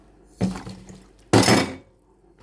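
Water poured from a drawer-sized measure into a cucumber pickle mix, two close splashing gushes with a short gap between them, the second louder and longer.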